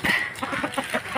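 Chickens clucking close by at feeding time, a quick run of short, choppy clucks in uneven rhythm with one sharper squawk at the start, fairly loud and without talk.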